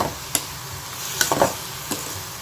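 Broad beans sautéing in a pan for a Tamil home lunch, a soft continuous sizzle broken by a few sharp clicks and scrapes of stirring, fairly quiet and close, with no talking.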